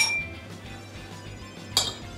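A metal spoon knocks against kitchen dishes: a faint ringing tap at the start, a soft background hum, then one sharper clink near the end.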